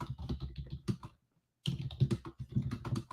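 Rapid clicking of keys on a computer keyboard in quick bursts, with a short pause in the middle before the typing resumes.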